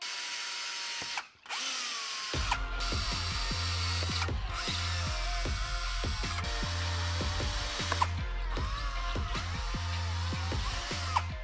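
Power drill boring holes through a plastic airbox on a Honda two-stroke, the motor whining in repeated bursts that stop and restart, close and loud, with no voices.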